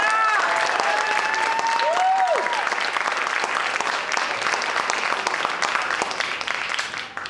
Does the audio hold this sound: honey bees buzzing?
no